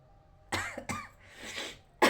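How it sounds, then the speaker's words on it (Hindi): A person trying to sneeze coughs instead, producing three or four short, harsh coughs with brief gaps between them, close and fairly loud. "छींक नहीं आ रहा है लेकिन खांसी आ रहा है।"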